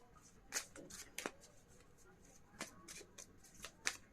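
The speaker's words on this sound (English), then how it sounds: "let us shuffle and pick" Cards are shuffled in soft, brief riffles and slaps, close by and quiet, with short pauses between bursts.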